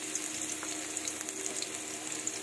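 Garlic frying in hot reddish oil as the base for chicken sotanghon soup, a steady close sizzle with small crackles and pops throughout, no voices.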